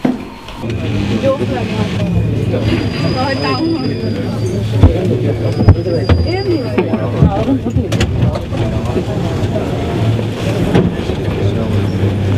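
A Paris metro train near the Pont-Bercy stop by the Seine rumbles steadily with low rolling noise, faint high squeals and a few sharp clacks, while people talk throughout.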